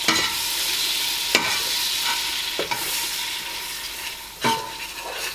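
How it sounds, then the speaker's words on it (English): Marshmallow and Milky Bar mixture stirred in a pan, a steady soft sizzling hiss broken by a few sharp scraping knocks of the spoon against the pan, close and with no voices. "stir it real hard so that the bottom of the pan does not burn"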